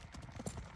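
Hooves of a gaited mare clopping on livestock scales at a horse sale, a few close, uneven steps with a brief thud, heard alone.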